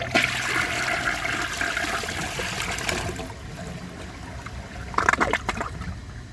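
A 1992 Peerless Hancock toilet flushes away dirt with a loud rushing surge. The water then eases into a steady trickle, ending in a brief gurgle.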